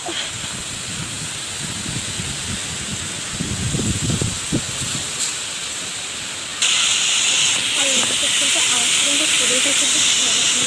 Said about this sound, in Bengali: আওয়াজ তো পুরোটা কিন্তু ঝড়ের আওয়াজ ছিল একটা